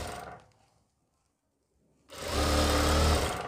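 A sewing machine stitches a seam on fabric for an elastic-back pant, running in two bursts: a brief run that stops, a pause of silence, then a louder, sustained whirring run up close.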